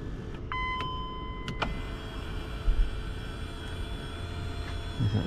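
An electric motor whirs steadily as the steering column of a Range Rover L322 moves, a close, fairly quiet hum inside the car with a brief higher whine and a few clicks near the start.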